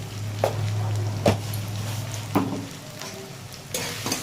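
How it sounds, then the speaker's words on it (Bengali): Garlic frying in a pan for a potol chingri curry gives a steady close sizzle, broken by a few scraping stirs of a spatula against the pan. "রসুনটা ভালো করে ভেজে নেব"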